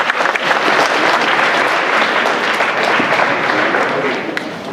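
Dense, steady applause from a high school student audience at a school mock debate event fills the room at constant loudness for the whole stretch, easing slightly at the end.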